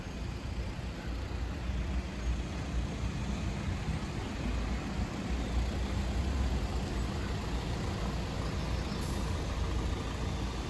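A city bus in Moldova makes a steady, loud engine and road rumble with broadband hiss, continuous throughout with no talk.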